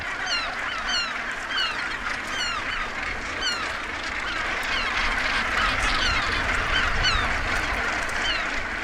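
Gannets call across a crowded nesting colony on a rock face, a dense chorus of harsh, overlapping honks and squawks going on without pause, with no voices.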